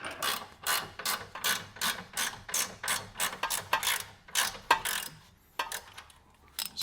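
A ratchet tightens the castle nut on a tie rod end of an 8th-generation Honda Civic, driver side, making a close, steady train of quick clicking strokes that briefly pauses near the end before resuming.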